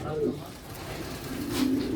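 Homing pigeons coo softly in low rolling calls close by, with a person talking over them.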